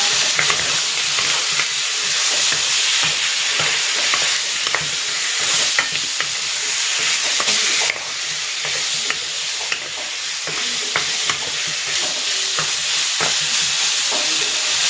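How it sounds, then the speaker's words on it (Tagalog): Chicken seasoned with salt and pepper sautés in a pan for arroz caldo, giving a steady, loud sizzle with frequent stirring scrapes and clatter throughout, with no talking. "Igigisa ko na dito itong chicken."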